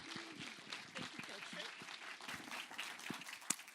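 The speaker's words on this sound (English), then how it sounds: "Please give him a warm round of applause" A conference audience at an arts summit opening gives a scattered, fairly quiet round of applause for the day's moderator, with voices talking through it and a sharp clap standing out near the end.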